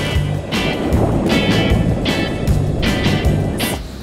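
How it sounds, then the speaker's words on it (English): Ocean waves at La Libertad beach in El Salvador roar in a steady broadband wash, with surging peaks rolling in every second or so, loud and continuous with no voices. "There's no way we're going out there with those waves."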